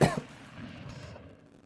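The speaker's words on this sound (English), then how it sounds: "those granola bars make me cough" A single sharp, close cough bursts out and quickly fades into quiet room tone.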